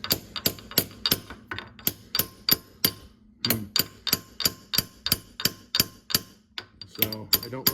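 A hammer strikes repeatedly at a steady, quick rhythm while fitting a part onto a TR6060 transmission during a rebuild, with sharp close metallic knocks and a short pause midway.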